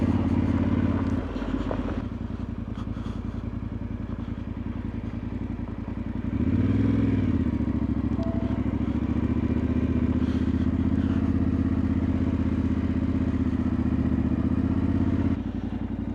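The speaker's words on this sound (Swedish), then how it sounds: "det sjunger rätt mycket om däcken när du kommer över 90. Det är ett jäkla susande." Motorcycle tyres humming and whooshing on the road at speeds above 90 km/h, a steady close drone of engine and tyre noise that runs through the whole stretch, with a short swell of rushing wind in the middle.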